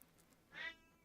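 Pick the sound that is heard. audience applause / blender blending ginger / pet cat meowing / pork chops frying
pet cat meowing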